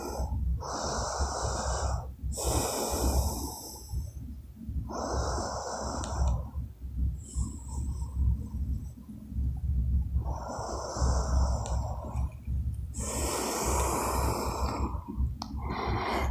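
Slow, deep breaths during a yoga session for hip and low back pain: steady, close inhales and exhales in an even rhythm, about three full rounds, with no talking.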